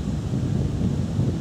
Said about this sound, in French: Juste un petit peu de vent.